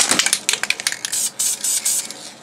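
Dupli-Color Metalcast faux-anodized automotive spray paint hisses from the can in short, close bursts, then in several longer sprays.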